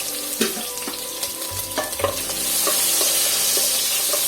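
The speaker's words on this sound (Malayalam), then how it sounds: "എന്നിട്ട് ഇതൊന്ന് വഴറ്റി കൊടുക്കാം" Garlic, green chilli and ginger sautéing in hot oil in a pan: close, brisk scraping stirs and utensil taps over a sizzle that swells into a steady loud fry.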